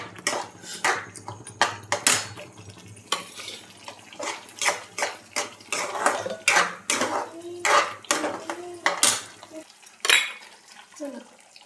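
A spoon clanks and scrapes repeatedly against a pan as masala, onion and tomato are sautéed for a dhaba-style chole curry, giving sharp, closely spaced metallic knocks over a faint sizzle.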